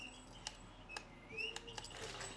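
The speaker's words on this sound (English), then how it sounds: "It chirps. It's just going to be chirping. Constantly." A dog toy gives faint, brief electronic chirps and tweets at irregular intervals against a quiet indoor background, with no talking.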